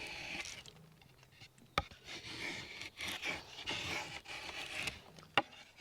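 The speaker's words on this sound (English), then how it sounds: "I'm going to draw knife this down till I get that 1/8 of an inch" A draw knife shaves birch bark canoe wood in short rasping strokes, close and fairly soft, with a few sharp knocks between the scraping passes.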